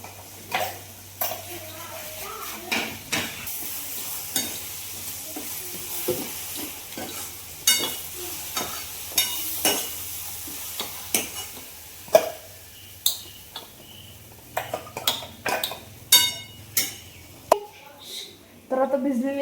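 Gram dal pithla cooks in a pan with a low sizzle while a spoon repeatedly scrapes and taps against the metal in uneven strokes, and a voice talks faintly at times.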